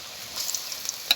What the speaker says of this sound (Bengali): তারপর আস্তে আস্তে মশমশা করে ভেজে পাকোড়া তৈরি করতে হবে।